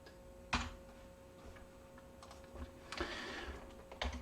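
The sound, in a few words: typing code on a computer keyboard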